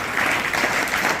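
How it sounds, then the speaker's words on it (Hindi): Enthusiastic applause from an assembled crowd of students at a grand school welcome ceremony in Hassanpur, a dense, steady wash of many hands clapping, close and loud, filling the short moment without any voices. "तो एक बार जोरदार तालियां बजा करके"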